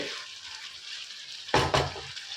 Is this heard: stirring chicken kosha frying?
yes